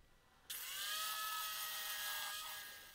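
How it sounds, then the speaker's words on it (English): An angle grinder bites into a badly pitted steel hatchet head with a sudden high whine that holds steady and loud, then slowly fades near the end, with no voices. "because the pitting is so bad, I decided to use the angle grinder"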